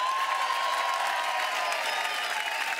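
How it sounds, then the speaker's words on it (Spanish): A crowd applauds steadily and densely, a loud continuous wash of clapping with some faint cheering mixed in, sustained evenly from start to finish. "Que se aplaude."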